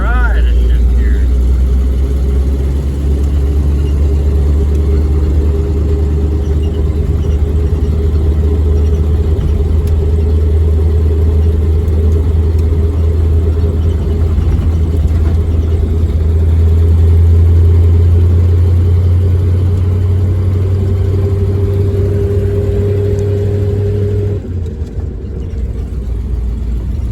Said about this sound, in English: Tough old hill, even when this V8 little bitty car is struggling going up it in third.